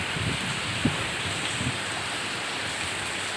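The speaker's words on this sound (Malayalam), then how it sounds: "നല്ല മഴയൊക്കെ ഉണ്ട് കേട്ടോ" Heavy rain pours down steadily in Kerala, a dense, even hiss of falling water with a few nearby drips and taps, and no talking.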